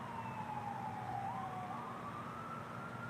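An ambulance siren wails in a video game, faint and distant, its tone sliding and shifting over a low steady hum of traffic, with no talk.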